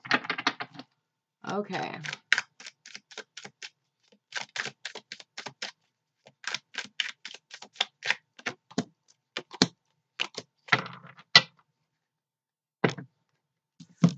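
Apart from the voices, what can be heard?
tarot cards being handled and shuffled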